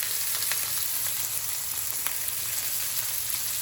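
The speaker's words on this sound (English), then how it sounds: "I'm trying to get a sear on it. Get a little crust on it." Meat sears in a hot pan as it forms a crust, giving a steady, dense sizzle with small pops and crackles near the microphone and no talking.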